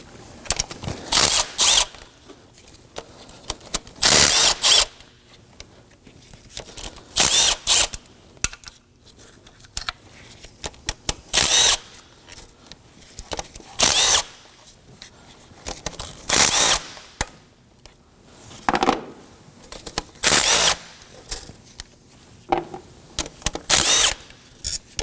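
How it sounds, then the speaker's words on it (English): Power tool spinning off the nine 12mm bolts on the lower intake manifold of a 2014-2020 Acura MDX 3.5L V6: repeated short, loud whirring bursts separated by quiet gaps, with faint rattling and handling noise between them. "we're gonna remove the lower part of the intake manifold by taking off these 9 12mm bolts"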